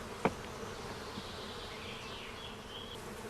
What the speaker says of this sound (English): First, the bees are shaken onto a sheet of plastic.